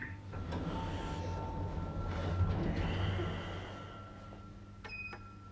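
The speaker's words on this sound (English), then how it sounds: "Doors opening." A department store lift in Wolverhampton opens its doors: a low motor hum and a broad, faint sliding swell in the middle, then a brief soft chime near the end.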